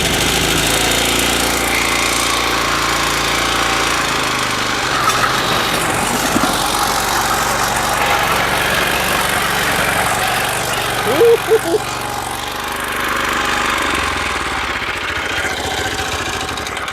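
The engine of a Toro Greensmaster 1000 reel mower runs steadily on a lawn, a loud, continuous close-up drone that holds for the whole stretch with only small fluctuations.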